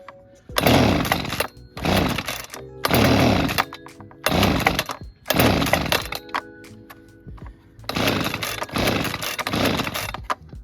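A Husqvarna 125B leaf blower engine sputters to life on a newly fitted carburettor, roaring loudly in several separate bursts with brief drops between them, close by.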